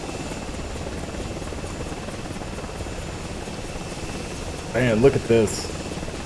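A helicopter in the retro shooter Dagger Directive whirs in a steady, continuous drone throughout, with someone talking briefly over it near the end.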